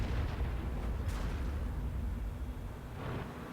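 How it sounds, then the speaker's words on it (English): Tank cannon fire in the World of Tanks video game: a couple of sharp, muffled booms over a continuous low rumble of battle noise, moderately faint and without speech. "we start shooting at the ridge campers"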